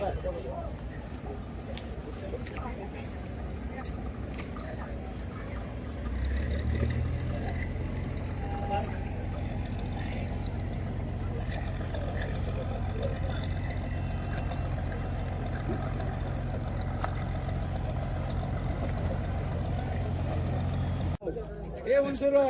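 Boats passing on the water near the Elephanta caves give a steady low engine rumble that swells partway through and holds, with voices talking over it.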